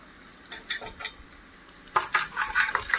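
Ginger paste and a spoonful of turmeric being stirred in a pan with a spoon, brief scraping strokes around half a second, then a denser run of scraping and light sizzle near the end, close and fairly quiet.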